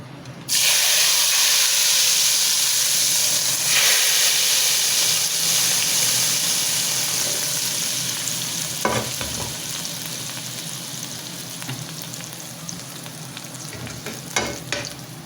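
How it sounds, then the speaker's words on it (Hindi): Tadka tempering hits a pot of kadhi for pakoda kadhi with a sudden loud hiss and sizzle, then a steady frying crackle that slowly eases, with a few sharp stirring clinks near the end. "हम अब इसको अपना तड़का जो है वो लगाने लगे हैं।"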